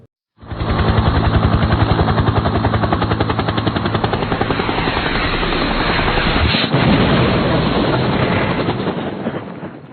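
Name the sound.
airplane engine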